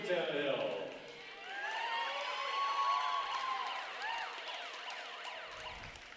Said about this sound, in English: Somebody has a siren.